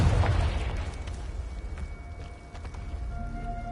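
A Confringo spell blast in Hogwarts Legacy, a booming burst at the start that fades into a low rumbling tail with faint footsteps.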